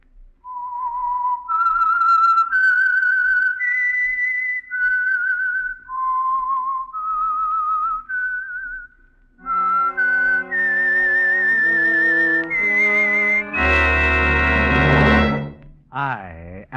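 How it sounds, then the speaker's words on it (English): A whistled melody serving as the theme of the Signal Oil radio program The Whistler: a clear, sustained tune of stepping notes, loud and alone, rising toward the end where it swells with orchestral accompaniment. "the signal to listen for is this whistle that identifies the Signal Oil program, The Whistler."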